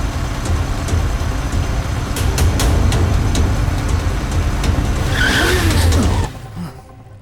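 A car turns sharply with its tires skidding and squealing on the road, a loud, sustained screech over engine rumble that rises in the middle and then drops away abruptly.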